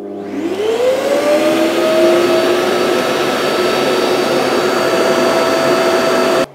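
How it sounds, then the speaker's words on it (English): Vacuum cleaner with a brand new bag and a 27 mm hose, connected to an Oneida Ultimate Dust Deputy cyclone, running at full power: a loud, steady motor roar spinning up within the first second and holding until it cuts off abruptly. "I've got the vacuum with its brand new bag and just a 27 millimeter hose"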